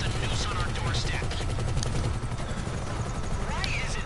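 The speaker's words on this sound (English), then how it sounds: "I'm buying this chopper at some point" In a video game, a helicopter's rotor chop and engine drone run continuously under the action, with bursts of gunfire and people talking over it.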